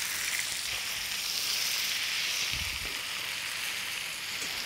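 Cod fillet laid into a hot pan sizzles and spits in a steady, bright hiss, with a couple of soft low knocks as the fish settles.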